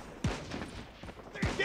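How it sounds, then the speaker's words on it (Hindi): Sniper rifle shots ring out in Call of Duty Mobile, a couple of sharp cracks spaced about a second apart, fairly faint amid game ambience and a voice talking. "कोई स्नाइपर चला रहा है"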